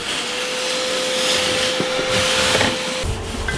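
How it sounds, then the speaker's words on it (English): A vacuum cleaner sucks shaving cream off a flooded car's floor with a continuous loud whine and hiss, close up, the tone shifting slightly toward the end. "Alright, Daniel, now that you're doing vacuuming."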